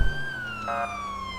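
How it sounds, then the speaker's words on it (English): An Ohio State Highway Patrol police car siren wails loud and close in a steady descending tone, with a brief electronic yelp burst partway through over road noise. "Cut my siren."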